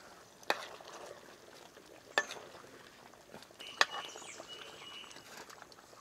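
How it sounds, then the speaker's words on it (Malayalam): Pepper chicken curry being stirred in a pot: a few sharp spoon clinks against the metal over a quiet, soft background simmer, with no one talking. "ഇതൊന്ന് ഇളക്കി വെച്ചു കൊടുക്കും."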